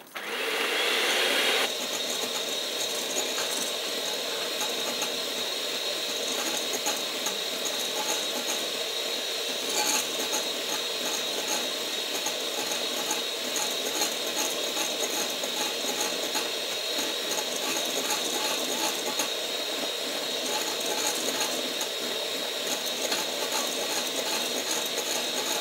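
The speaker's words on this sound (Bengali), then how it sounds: "তাহলে আমি এখন বিট করছি।" An electric mixer beats sugar for jackfruit cupcake batter, a loud, continuous whirring motor with a rattling mechanical edge that runs steadily for the whole stretch after a brief start-up, with no voices.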